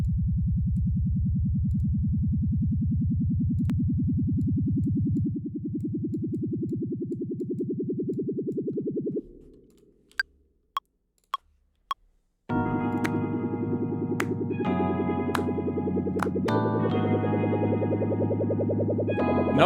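A sustained buzzy synth tone fades out, a few sharp ticks sound in near silence, then bright synth chords ring with a washy, echoing tail.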